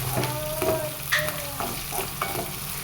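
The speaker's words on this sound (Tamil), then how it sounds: "நல்லா ஃப்ரை ஆகிடுச்சுங்க." Fish sizzles and spits in a hot pan while a utensil scrapes and stirs it in short, repeated strokes, close up and with no talking.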